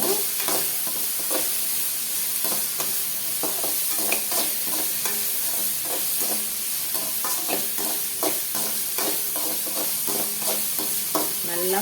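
Chopped small onions fry in oil in a pan for a pressure keerai spinach dish, a constant sizzle broken by regular scraping strokes of a spoon stirring throughout.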